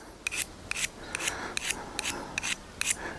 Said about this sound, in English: you've got a great little sharpener for your blade there. So you can just run that over your blade.